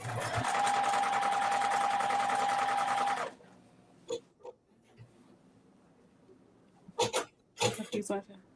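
A sewing machine runs in one steady, loud, whirring burst for about three seconds while stitching a dress, then stops, leaving quiet room tone broken by a few short bumps and murmured voices.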